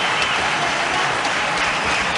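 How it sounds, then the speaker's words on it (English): Cricket crowd at Sharjah applauding a batsman during a 1997 India versus Pakistan match, dense continuous clapping from a distant stadium audience. "he deserves the applause"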